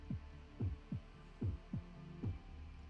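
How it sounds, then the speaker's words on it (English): Deep, slow heartbeat pulses throb through a castle in a video game, about seven muffled double thumps over a low steady hum, fairly faint and with no talking. "Is it just me, or does it sound like the castle has a heartbeat?"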